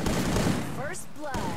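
Rapid bursts of gunfire in a shooting video game crackle densely through the first half, then thin out as voices talk over the action.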